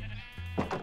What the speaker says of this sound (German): Das sind unsere Schafe.